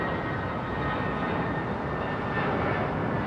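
An airliner from Doha departing, a constant loud jet roar with a thin, steady turbine whine running above it, heard alone without voices.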